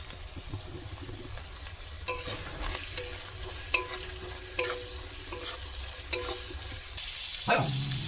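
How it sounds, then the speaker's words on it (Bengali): Potatoes with onion, turmeric and salt fry in a pan, a soft steady sizzle broken by repeated scraping strokes of a spatula stirring, each stroke a brief clatter at close range. "পিঠে আর আলুটা ভালো করে ভেজে নেব।"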